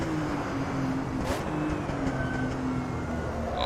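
A Porsche 935 Moby Dick in Assetto Corsa slows hard under braking, its engine note a steady droning hum with a falling tonal whine, loud and continuous with no talk.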